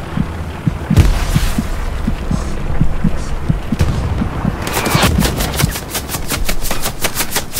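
Rapid bursts of gunfire in the video game Hell Let Loose crack at a steady, regular pace, with a denser stutter of automatic shots near the end, all loud against a rumbling battlefield background.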